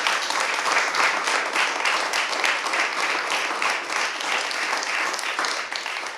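Full, continuous applause from an audience at a Paris notaries' event for a municipal election candidate, a dense and loud clapping texture that holds steady for several seconds before easing slightly at the close.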